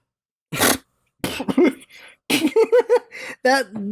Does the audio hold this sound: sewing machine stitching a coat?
no